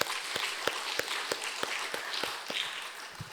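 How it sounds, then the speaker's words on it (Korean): A church congregation at a Sunday service claps in a steady rhythm, about ten sharp claps spaced roughly a third of a second apart, fairly faint against a soft room background. "다시 한번 하나님 영광의 박수 올리겠습니다."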